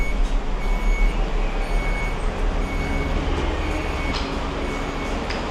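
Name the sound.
train door warning beeps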